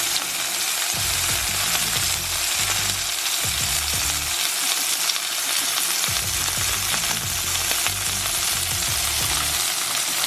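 Lamb chops fry in a hot pan with a loud, steady, crackling sizzle throughout, with occasional low bumps and scrapes of the pan and no talk.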